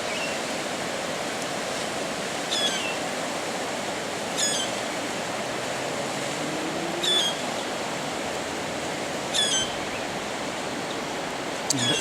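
The high River Torrens after flooding, flowing as a steady broadband rush of water near a weir and flood mitigation pond, with occasional bird chirps breaking through the continuous wash.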